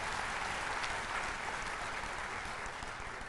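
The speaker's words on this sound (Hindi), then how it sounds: "एक बार इन सब के लिए जोरदार तालियों," Loud, dense audience applause fills a conference hall at a national conclave, a steady wash of many hands clapping together without pause and with no talk over it.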